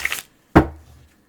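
Tarot cards being shuffled by hand, heard as two short, close papery bursts: a quick riffle, then a firmer slap that trails off into brief rustling.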